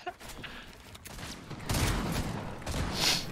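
Shotgun blasts in a first-person shooter game, a few loud broad bursts spaced about a second apart against quieter background game noise, with no talking over them.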